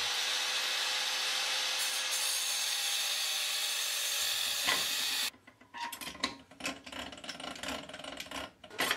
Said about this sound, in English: So we need to cut off a section and bend it into a ring.